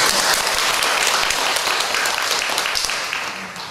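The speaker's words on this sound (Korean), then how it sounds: "박수 한번 칩시다" Audience applause at a church gathering, dense and loud, sustained as a steady wash of clapping that tapers slightly toward the end.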